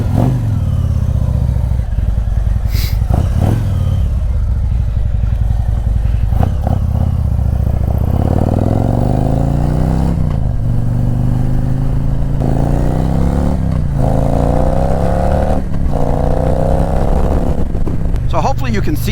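A Harley-Davidson Street Glide motorcycle on the road, its engine loud and close throughout, repeatedly revving up through the gears and easing off, with wind rush and occasional clatter.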